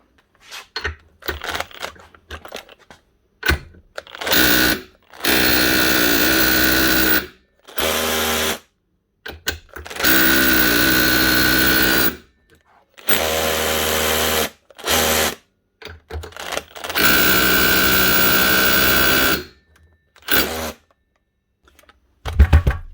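Broken Makita power tool running badly, its motor buzzing in repeated uneven bursts of a few seconds each, starting and stopping erratically with short silent gaps between.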